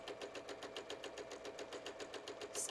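Domestic sewing machine stay stitching along a fabric edge at a basic 2.5 to 3 mm stitch length, a steady fast mechanical whir with even rapid needle clicks throughout, close and continuous with no talking.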